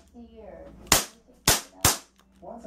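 A 1911 airsoft handgun fires BBs indoors at a wall, three sharp loud pops at uneven intervals, close and dry, with a murmur of voices before and after the shots.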